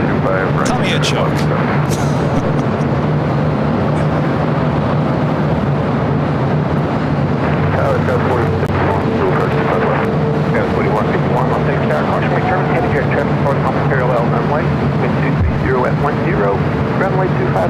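A LATAM Dreamliner airliner rolls down runway 25 right at LAX, its broad continuous engine roar steady and fairly loud throughout, with radio and voice chatter over it.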